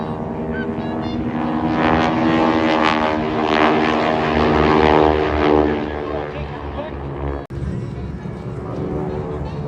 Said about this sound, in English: Formation is designed to allow a group of aircraft to operate in close proximity to one another with a high degree of safety.